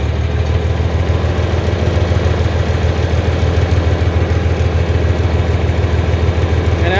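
An LP-fueled tractor engine idles on liquid fuel with a steady, low, throbbing rumble, close and even throughout with no talk.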